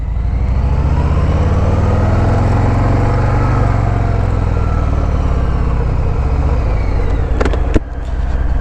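A Harley-Davidson Fat Boy motorcycle engine in River Rock Gray and Vivid Black runs loud and close with a steady deep rumble and rising tone under acceleration, with no talking.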